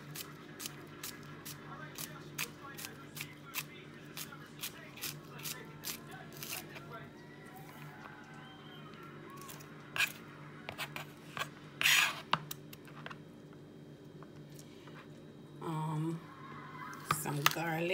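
Scallions being sliced for shrimp pasta in a small kitchen: a quick run of crisp, evenly spaced knife clicks, then sparser scrapes and rustles, all fairly quiet.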